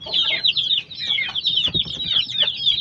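A gold hatch gamefowl stag, half sweater and half hatch, clucks loudly and close in quick repeated bursts of high chattering calls.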